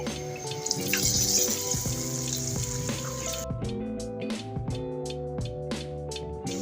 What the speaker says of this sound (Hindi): पकौड़ों को फ्राई करने के लिए मैंने फ्राई पैन में तेल डाल लिया है और तेल गरम हो चुका है। अब मैं इसमें पकौड़े डाल लूँगी।